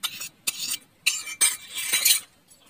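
Semolina thekua dough being stirred with sugar in a bowl, giving short bursts of gritty scraping and scratching strokes, close up and fairly loud, with no talking.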